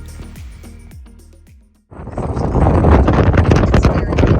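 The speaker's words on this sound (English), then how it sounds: "While we were relaxing indoors, something else was happening outside. The wind." Strong wind roars outside at a campsite in the Columbia Gorge, a loud, continuous broadband rush that swells in after a few soft knocking sounds and holds steady, gusting close to the microphone.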